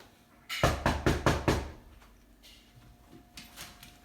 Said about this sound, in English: when the doorbell knocks or rings